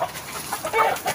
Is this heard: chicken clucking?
yes